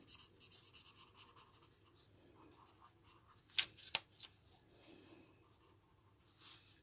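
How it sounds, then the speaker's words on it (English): A marker pen colors a stamped image on paper, making soft scratchy strokes close up, with a couple of sharper taps midway and quiet rubbing between. "I'm coloring in the direction of the image of the stamp"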